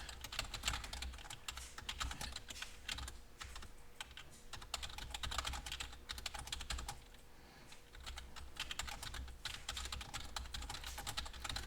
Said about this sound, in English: if you type in something more specific